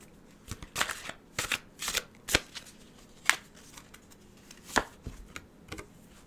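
Tarot cards being shuffled in quick, crisp bursts of riffling and slapping, several separate shuffles spaced irregularly, close and fairly quiet with no voice.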